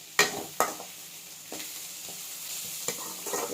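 Tomatoes cook in a pan for puffed rice upma, with a soft sizzle under several sharp scraping stirs of a spoon, close and fairly quiet.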